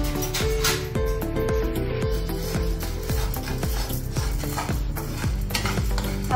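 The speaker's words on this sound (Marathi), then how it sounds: "शाबू जरा भाजून घेऊया।" Sago pearls (sabudana) being stirred and dry-roasted on a hot pan for a fasting recipe, giving a steady run of close scraping and rattling strokes with a faint sizzle, loud and continuous with no talking.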